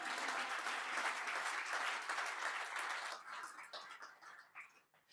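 A church congregation applauding, dense and loud for about three seconds, then thinning into scattered claps as it fades, with some voices mixed in.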